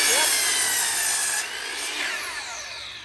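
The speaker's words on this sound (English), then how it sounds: "I'll at least get these screws cut." Power tool cutting through metal screws while building a wooden 2x4 tortoise night house, a loud high-pitched grinding whine that starts strong, then eases slightly and carries on steadily for a few seconds.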